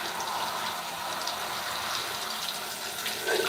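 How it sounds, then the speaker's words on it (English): A hair-rinsing shower spray at high pressure gives a steady, dense hiss of running water, close and continuous for the whole stretch, with no voices over it. "So now I'm taking this water on the higher pressure and I'm going in and continuing to rinse everything off of my hair"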